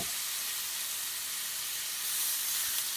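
Rib eye steaks searing in a hot pan at medium-high heat, a steady close sizzle and hiss that runs unbroken throughout and swells slightly near the end.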